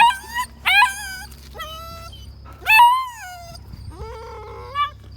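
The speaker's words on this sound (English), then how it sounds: "It's that dog over there." A dog with cracked back legs cries out in a run of loud, close, high whimpers and yips, each rising then falling, with short pauses between them and no talking.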